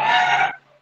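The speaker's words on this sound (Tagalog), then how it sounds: "Manok po naririnig ko." A single short chicken cluck or squawk, fairly close and clear, cutting off abruptly and fading into quiet within a second.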